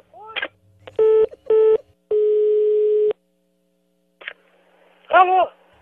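Telephone line signal after a dropped call: a few short electronic tones and beeps, then a one-second steady tone, a pause, another brief blip and a final warbling burst, loud and clear without speech.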